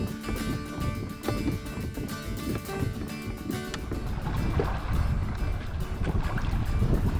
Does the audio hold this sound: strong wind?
yes